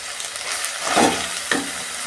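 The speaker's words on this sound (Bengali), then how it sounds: "মশলা কষানো হয়েছে" Spice paste for katla fish kalia frying in a pan, a close, steady sizzle with a couple of stirring scrapes.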